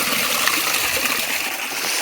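Clear water rushes and gushes steadily along a stream at the Velliyangiri hill temple, a dense, continuous wash of noise that fills the moment without pause or talk.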